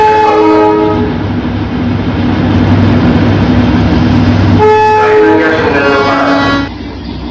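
Darjeeling heritage toy train sounding its horn in long sustained blasts, with steady rumbling and rolling of the carriages underneath, close and loud throughout.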